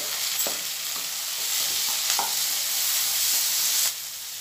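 Onion, green chilli and tomato sizzle in a hot pan for ragda chaat, a steady hissing fry broken by several sharp scraping stirs of a spoon against the pan, close and fairly loud.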